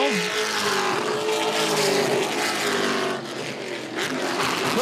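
Race trucks scream around the speedway in a Camping World Truck Series race, the black number 66 among them, their engines loud and sustained with rising and falling pitch as they pass close by.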